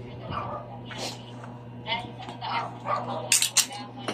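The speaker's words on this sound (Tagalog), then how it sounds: "May aso sa baba." A few faint dog barks and yips come from downstairs through a low background hum, growing slightly louder toward the end.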